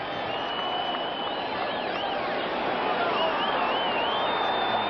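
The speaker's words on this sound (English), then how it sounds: "Crowd for the first time tonight, and it's a sellout crowd here at San Diego, is getting into it." A sellout stadium crowd in San Diego roars steadily at a Chargers–Steelers night football game, a dense, continuous wash of cheering and noise throughout, with an announcer talking over it.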